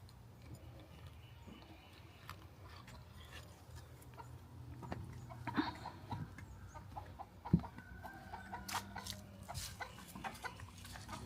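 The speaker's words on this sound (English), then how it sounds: "The chicken's out here carrying on and doing bad things to my yard" A chicken clucks out in a yard, with faint, scattered clucks and scratchy sounds over quiet outdoor ambience.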